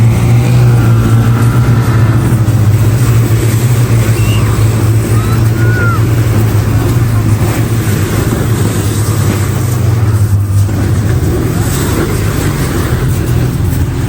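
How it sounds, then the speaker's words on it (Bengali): Motorbikes ride past in snowy Sonamarg, their engines blending into a loud, continuous roar that holds steady throughout, with no clear gaps between machines. "সবাই বাইক নিয়ে ঘুরছে।"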